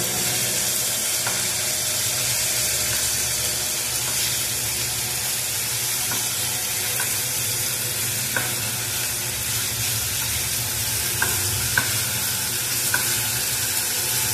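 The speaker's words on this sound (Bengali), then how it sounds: "চিকেনগুলোকে খুব ভালো করে ভেজে নিতে হবে।" Chicken pieces fry over a high flame in a pan, producing an even, continuous sizzle with occasional light clicks of stirring and turning.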